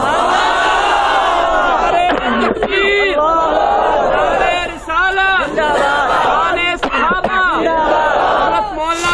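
A large crowd chants the Takbir slogan in unison at a religious gathering, loud and close, with repeated rising shouts in waves that overlap and fill the whole stretch.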